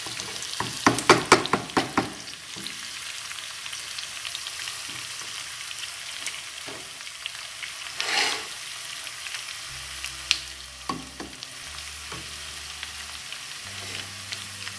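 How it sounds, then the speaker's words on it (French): Chopped onions sizzle and fry in a pan over medium heat, with a soft steady crackle. Sharp clinks and scrapes of stirring come through clearly, and nobody speaks. "Je fais revenir les oignons pendant 2 minutes à peu moyen"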